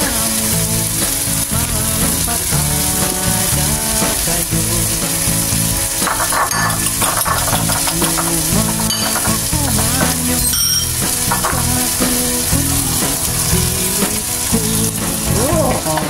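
Egg frying in a pan of already-cooked tomatoes, a steady, loud sizzle and crackle running throughout with occasional stirring clinks of a utensil against the pan.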